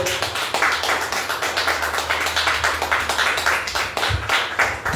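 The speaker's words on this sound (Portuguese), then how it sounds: "Um aplauso ao Senhor." A church congregation claps in worship, a lively rhythmic burst of many hands close by that keeps a steady beat throughout, with a low hum underneath.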